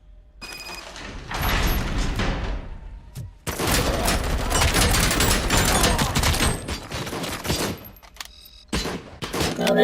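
Repeated gunfire from a gun in the video game Robocop Rogue City, loud close bursts with brief gaps between volleys, continuing through most of the stretch.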